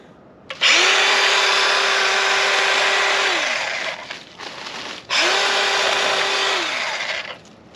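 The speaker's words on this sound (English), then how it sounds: "It's cutting these little branches off pretty good." A Craftsman V20 battery pruning chainsaw cuts small branches in two close, loud bursts, each a rising electric motor whine with chain rasping through wood before it spins down, separated by a brief quiet gap.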